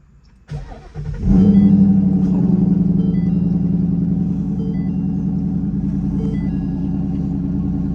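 A drift car's engine cranks and catches, then settles into a steady, loud idle in neutral with a low rhythmic rumble that continues unbroken.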